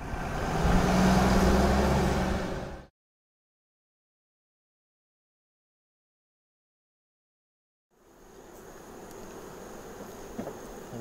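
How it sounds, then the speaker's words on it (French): Honeybees working at hives fitted with supers in New Caledonia give off a steady, faint buzz that drops to silence for several seconds before returning more softly. "On voit qu'il y a des abeilles qui travaillent."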